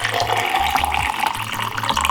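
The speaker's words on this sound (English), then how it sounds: "what I'm going to do is put some not hot water, lukewarm water" Lukewarm water pours steadily into a drinking glass holding a cinnamon stick, a close, continuous splashing trickle with no voices.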